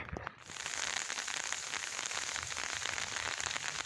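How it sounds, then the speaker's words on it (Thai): Steady rain pours down in a rural Thai rice-field setting during a snail-gathering outing, a dense, continuous hiss of drops close by with no talk over it. "ฝนตกท่านผู้ชม"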